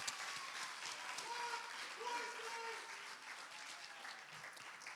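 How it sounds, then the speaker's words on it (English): An audience at an adult talent show applauds steadily, a broad wash of clapping with a few faint voices calling out over it, held at even loudness throughout. "Give him another round of applause."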